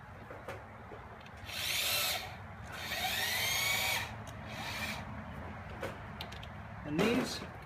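A power drill drives 1.25-inch T25 star-head screws into cedar boards on a raised garden bed frame, with two whirring bursts close by, a quieter pause, then a final short spurt.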